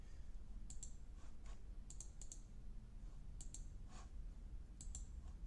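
Light, close computer mouse clicks come in small pairs and singles, spaced a second or so apart over a low steady hum.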